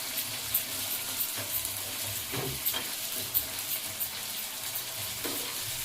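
Green chillies frying briefly in oil in a pan for chintakaya sambar, giving a steady close sizzle with occasional stirring scrapes and light crackles.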